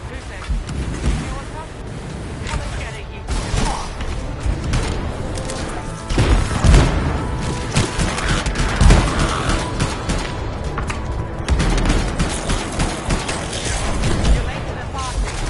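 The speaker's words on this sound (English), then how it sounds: "Hear that? Sounds like a war." Distant battle in the video game Anthem, with rumbling explosions and scattered gunfire rolling under wind and a dense, noisy backdrop, heavier booms near the middle, while people talk over it.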